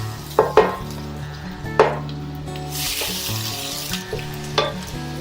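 Garlic fries in a little oil with a close, continuous sizzle, punctuated by a few sharp spatula knocks against the pan and a brief louder hiss midway.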